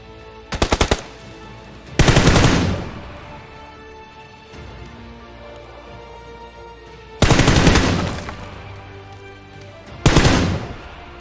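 Machine gun fire in the video game PUBG comes in loud bursts: a quick rattling volley, then longer sustained sprays, separated by quieter stretches of game ambience.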